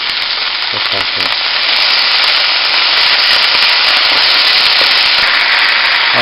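Cabbage tossed in a wok with salt and pepper over high heat, giving a loud, dense, continuous frying hiss with a few soft scrapes early on.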